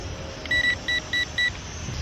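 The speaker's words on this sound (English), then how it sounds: "It does like several beeps." A cheap toy drone gives four short, evenly spaced electronic beeps, clear and close against quiet background noise.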